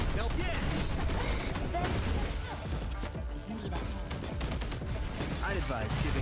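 Dense rapid gunfire in the action game Punishing: Gray Raven, heavy shots and bursts firing nearly nonstop among impact crashes, loud and close, with game voices mixed in.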